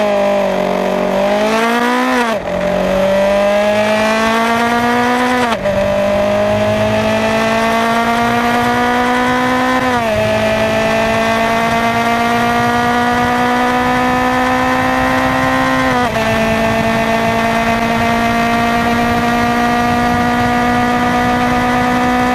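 A Kawasaki KLE500 motorcycle engine runs loudly and close, revving up in several steps and settling into a steady, rising drone between each blip, with no talk.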